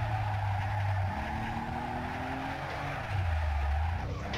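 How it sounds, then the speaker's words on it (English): A RUF RT 12R in Assetto Corsa braking hard with its wheels locked, a sustained tire squeal and skid over a droning engine whose pitch falls and then climbs again, loud and close with no voices. "and we lock the wheels."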